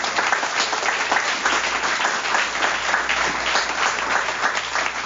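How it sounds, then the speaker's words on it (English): A 12-step recovery group at a meeting gives a sustained round of applause, dense steady clapping filling the room at even loudness throughout. "Give the man a round of applause for tonight."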